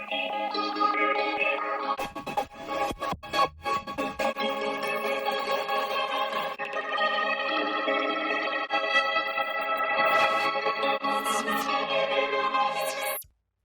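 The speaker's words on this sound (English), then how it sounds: "This one goes a little bit crazier than the other distortions." A synth melody runs through heavy distortion and chorus-like effects, gritty and warbling, with a few stuttering glitchy bursts; loud and continuous, no voices.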